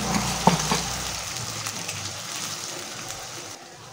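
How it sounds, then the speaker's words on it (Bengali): Sliced onions frying in a pan for a spicy mutton dish, with a couple of sharp clinks or stirring knocks near the start over a soft, steady sizzle that fades slightly and drops away near the end. "পেঁয়াজটা কিন্তু এই দেখো ভাজা ভাজাই হচ্ছে।"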